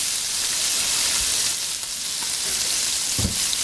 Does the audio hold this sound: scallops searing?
yes